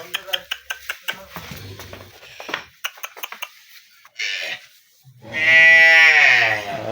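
A Holstein Friesian dairy cow, in her second calving, gives a loud, drawn-out low moo near the end, following clattering knocks and a shorter call, with people talking around it.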